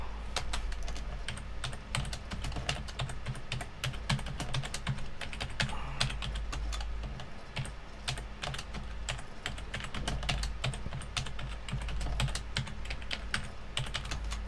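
Steady keystrokes on a computer keyboard, continuous and close, a dense run of clicks while someone types a note during a Windows 10 USB 3.0 fix, with no speech.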